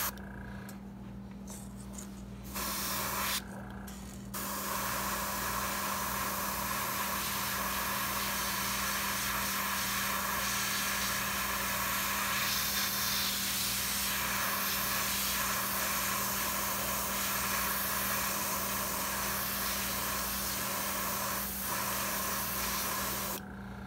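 Airbrush hissing steadily as it sprays fluorescent pink paint over green on a walleye crankbait, a continuous close spray with a brief pause near the start.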